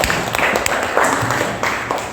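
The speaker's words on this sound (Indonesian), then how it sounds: "Tepuk tangan untuk semuanya." Classroom applause from a group of students, a steady patter of many hands clapping close by for about two seconds with no talking over it.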